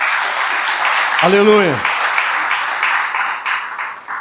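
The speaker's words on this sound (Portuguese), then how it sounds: "Dê uma salva de palmas para o Senhor" A church congregation gives the Lord a round of applause, dense sustained clapping filling the room while one voice briefly calls out over it.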